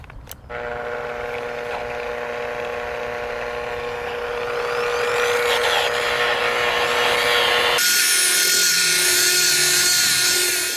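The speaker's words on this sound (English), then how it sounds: "I use my polisher on a low speed, but still it flings around" A car paint polisher runs at low speed while correcting orange peel paint, giving a steady close motor whine with layered harmonics that grows slightly louder before switching abruptly to a harsher, brighter rush near the end; no talk.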